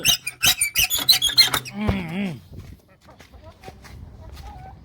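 Hens just let out of their coop cluck and squawk in quick, close bursts for about two seconds, then fall to faint scattered rustling and occasional soft calls.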